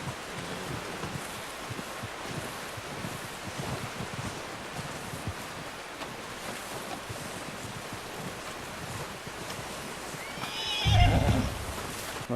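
A horse in Red Dead Redemption 2 whinnies and snorts as it comes close, one loud burst near the end over a steady bed of wind and outdoor ambience.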